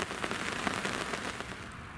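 Steady rain patters close and constant at a lakeside carp fishing swim in summer, a dense hiss of drops striking surfaces with no voices present.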